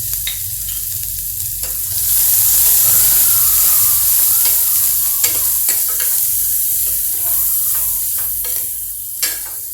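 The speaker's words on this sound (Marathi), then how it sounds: "यामध्ये आता हिंग टाकून आपण हा कांदा टाकतो कांदा आपल्याला ट्रान्सलुसंट करून घ्यायचा आहे" Chopped onion sizzling and frying in hot oil with asafoetida in a pan for a Rajasthani spicy tomato sev curry, a steady loud crackle and hiss with stirring scrapes throughout, no talking.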